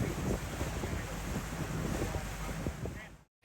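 A small tour boat on the Mekong River motors along with a loud, constant rumble mixed with wind buffeting the microphone and rushing water, cutting out abruptly near the end.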